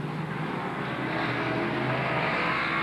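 Modified race cars in a 30-lap feature race roar past in a steady, dense engine drone, loud and continuous with a slight rise in pitch toward the end.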